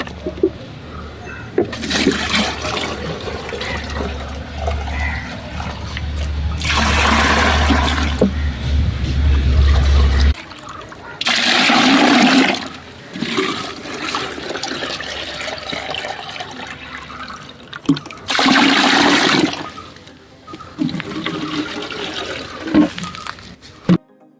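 Water pours and splashes into a container of vegetable plant fertilizer in several bursts of a few seconds each, separated by quieter gaps with a low hum early on.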